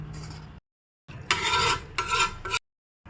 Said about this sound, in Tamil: இப்போ நம்ம நல்லா மிக்ஸ் பண்ணி விட்டுக்கலாம்.